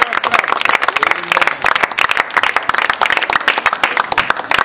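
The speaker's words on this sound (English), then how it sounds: "Can you put those hands together for Jesus?" Church congregation at the close of a service at Presbyterian School, Kwakom, Ambo Village, clapping hands together in dense, steady applause, loud and close, with scattered voices mixed in.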